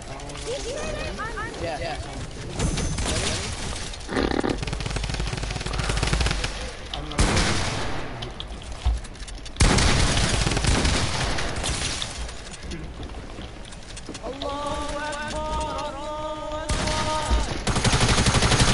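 Gunfire from a P90 in a shooter video game comes in repeated bursts and single shots amid clanking mechanical game noise, with a voice talking over much of it.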